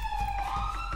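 Police car siren in GTA 5 roleplay, a steady wailing tone holding loud and continuous across the whole moment, with no talk over it.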